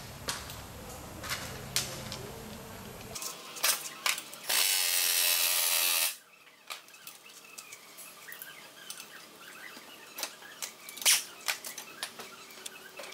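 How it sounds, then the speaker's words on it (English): Ratchet wrench clicking on the 15 mm caliper bracket bolts of a 1997 Ford Explorer during brake work, with sharp bursts of clicks, a loud sustained whir in the middle, then more scattered ratchet clicks. "Now we got to remove the caliper bracket."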